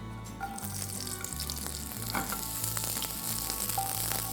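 Diced onions sizzling in a hot kadai for kadai paneer, a bright steady frying hiss with occasional stirring clicks, heard alone without voices.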